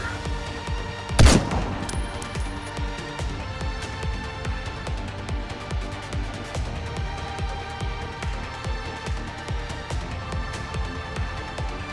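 Gunfire rattles in NIKKE: Goddess of Victory, opening with one loud crack followed by a steady, rhythmic stream of repeated shots at moderate volume over a low game rumble.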